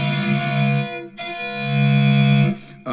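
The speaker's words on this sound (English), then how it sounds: "where I'll be bringing in distortion" An electric violin played through a distortion effect gives sustained, buzzing, harmonically rich tones, two long held notes separated by a brief break, loud and close with no talk.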